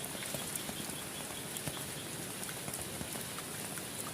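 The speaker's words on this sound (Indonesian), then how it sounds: "keadaan lagi hujan lebat memang" Steady broadband hiss of heavy rain falling continuously at a riverside campsite, with scattered drops pattering on surfaces throughout; no voices.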